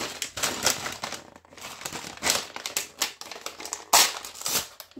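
Plastic packaging around a Lego Ninjago magazine crinkles and rustles in close, irregular bursts as it is opened by hand, with sharp tearing snaps between quieter handling.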